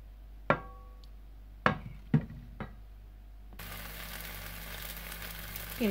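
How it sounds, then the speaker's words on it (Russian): A thin water-based pancake (blin) cooks in an oiled pan over medium heat: a few sharp knocks and scrapes of turning it, then a steady, soft sizzle of frying. "Перевернули блин и выпекаем с обратной стороны."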